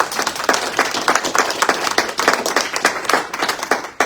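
A church congregation claps together in a steady, rhythmic beat during a sermon, even repeated claps ringing through the hall for several seconds with no talk over them.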